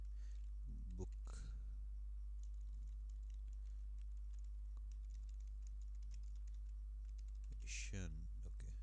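Soft keystrokes on a computer keyboard while C++ code is being written, a faint patter of scattered clicks over a steady low hum, with short bits of someone speaking near the start and end.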